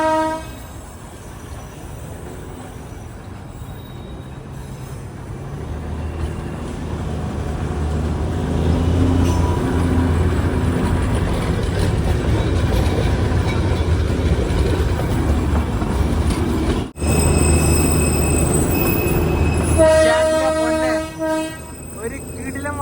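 Darjeeling Himalayan Railway toy train drawing near through green hills beside a road, its rumble rising steadily, then sharp horn blasts sounding up close near the end.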